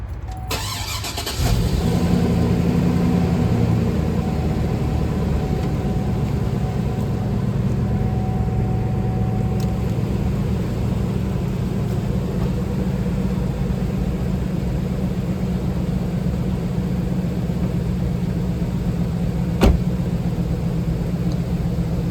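Car engine cranking briefly and catching, then settling into a steady, loud idle that runs on evenly with a single short tick late on.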